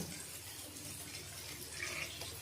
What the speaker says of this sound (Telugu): ఒక టూ గ్లాసెస్ అలా పోసాను